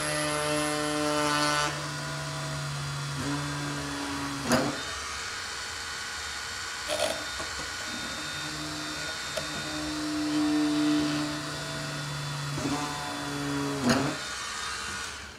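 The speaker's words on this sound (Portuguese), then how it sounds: "vou fazer o furo agora com a micro retífica, só para fazer uma guia" A high-pitched mini rotary grinder whining as it drills a pilot hole in a motorcycle top case hinge, running in long steady stretches with its pitch shifting, broken by a few sharp knocks.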